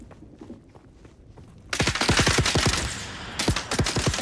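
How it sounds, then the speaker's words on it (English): Gunfire in Dune Awakening: after quiet ambience with faint footsteps, a loud burst of rapid automatic shots starts abruptly and continues as dense, repeated volleys. "Who's shooting at me?"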